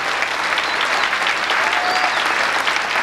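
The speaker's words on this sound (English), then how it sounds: "Please give them a round of applause" An audience applauds a high school band and choir at a concert, a steady wash of many hands clapping together at moderate volume for a few seconds.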